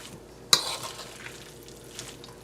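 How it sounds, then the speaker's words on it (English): Oil in a frying pan while making a spaghetti frittata gives a faint, soft sizzle, with a brief sharp clink of utensil on pan early on and light stirring noises afterward. "You want to hear a little sizzle."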